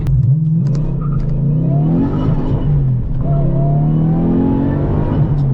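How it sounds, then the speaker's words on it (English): A Lexus GS400 engine with a limited-slip differential revs hard in first gear, its pitch climbing quickly through the gear before dropping and rising again, loud and close with a steady droning base. "it just revved up in first gear so quick"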